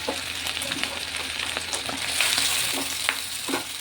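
Chicken chow mein stir-fries with egg, tomato and boiled noodles in a hot pan, sizzling loudly and steadily while a spatula clinks and scrapes as the noodles are tossed.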